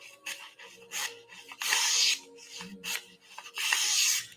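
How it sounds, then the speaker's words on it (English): A Spyderco Delica knife in K390 steel is stroked across stones on a Hapstone RS sharpener, giving short repeated rasping scrapes in an uneven rhythm, close and fairly quiet. "We have a Hapstone RS sharpener with Hapstone strops, a Hapstone premium CBN stones"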